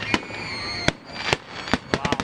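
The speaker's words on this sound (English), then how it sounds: "I just wanted to come here to see the fireworks." Fireworks at a Fourth of July show at Bethpage Ballpark, with a rapid series of sharp booming bursts, some isolated and some in quick clusters, ringing over steady crowd and crackling noise.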